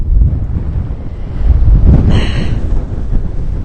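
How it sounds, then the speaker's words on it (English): Strong, steady wind buffets the microphone at a snowy beach in Rhode Island after a snowstorm. The roar is loud and continuous, with surf washing underneath and a brief faint higher tone near the middle. "It's windy out here."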